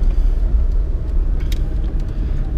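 Inside a Chevrolet Classic driven for Uber in Poços de Caldas, a loud, steady low engine and road rumble fills the cabin, with a few faint rattles and no speech.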